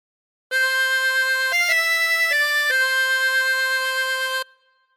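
A short phrase from a song plays on a 24-hole tremolo harmonica: several sustained reedy notes with a wavering tremolo shimmer run for about four seconds, clear and up close, with no voices.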